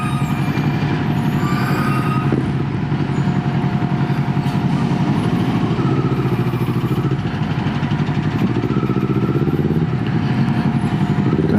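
Busy street traffic in Bangkok with motorbike and car engines droning and idling nearby, a steady dense rumble throughout with no talking.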